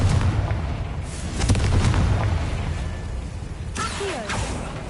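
Fiery Confringo spell blasts in the Hogwarts Legacy video game: a couple of sharp explosive bursts with crackling debris stand out over a steady rumbling game ambience.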